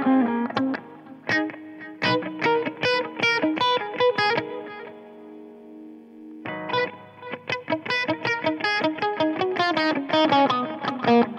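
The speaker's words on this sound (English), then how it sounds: "Next, we have something that's supposed to mimic a tape echo." Electric guitar through the tape echo delay effect of a Blackstar ID Core Stereo 40 amp head, distorted picked notes and chords repeating with soft trailing echoes, a held chord decaying in the middle, then more phrases.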